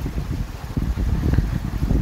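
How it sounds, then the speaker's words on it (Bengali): Strong storm wind by a river near the sea, gusting and roaring with heavy low rumble and microphone buffeting, loud and continuous with no talk. "এই যে বজ্রপাত, প্রচণ্ড বাতাস"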